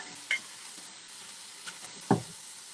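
A spoon stirs mushrooms and vegetables in a frying pan, giving a few scraping knocks over a steady, close sizzle, with no voices.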